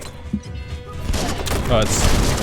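Gunfire in the video game Biomutant, a burst of rapid shots and impacts building through the second half, loud and dense, with a player talking over the action.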